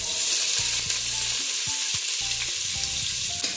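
Onions sizzle and crackle in hot oil in a pan alongside browning cashews while a vegetable pulao is made, with steady close frying noise and a few stirring clatters throughout.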